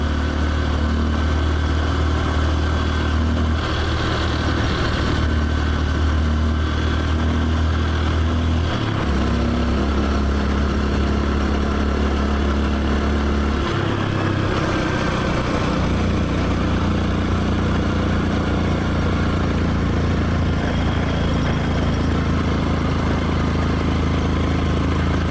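A motorcycle engine runs at night, a loud steady idle and rumble with shifts in pitch as the throttle changes, continuous for the whole stretch and close by.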